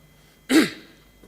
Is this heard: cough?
yes